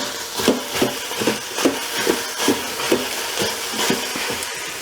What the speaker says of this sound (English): we're going to be dry frying it